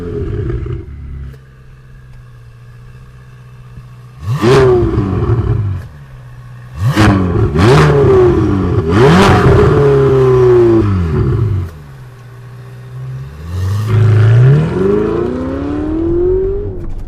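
A Ferrari 488 GTB engine in race mode with a 7-speed dual-clutch gearbox, idling and then revving hard in several loud, close bursts, its pitch sweeping up and dropping through shifts between quieter idle stretches.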